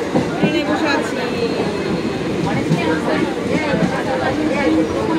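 Steady rumble and rattle of a moving train heard from inside a passenger car, with chatter and voices of travellers running through it continuously.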